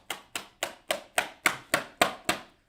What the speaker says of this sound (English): Just give some hand claps up there.